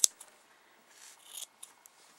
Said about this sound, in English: And then you take your scissors and